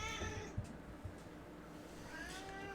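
A black cat meows softly at close range, a short plaintive call followed by a quieter rising mew, faint against low room noise.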